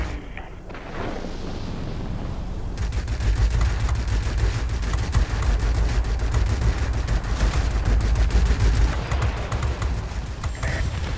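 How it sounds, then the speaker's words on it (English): A rear gunner on the SE 100 plane fires in World of Warplanes in dense, rapid bursts over a constant engine roar, loud and sustained after a quieter opening moment. "try and circle round, see what it's like with the rear gun"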